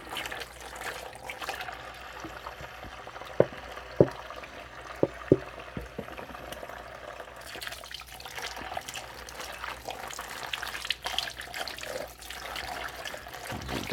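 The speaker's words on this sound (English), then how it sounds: "go ahead and run some hot soapy water for a moment." Hot soapy water runs steadily from a kitchen tap, a continuous low trickling wash with a few brief clinks and knocks of dishes over it, close and moderately quiet.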